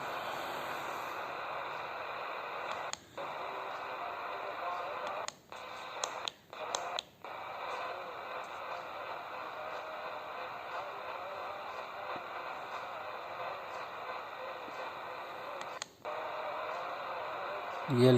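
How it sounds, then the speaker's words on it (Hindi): Faint medium wave AM broadcast from Akashvani Indore on 648 kHz, a weak station buried in steady hiss and static with a few brief dropouts, continuous throughout. "ये 648 किलोहर्ट्ज़ पर आप देख रहे हैं, ये आकाशवाणी का इंदौर केंद्र है। बहुत हल्की आवाज़ आ रही है।"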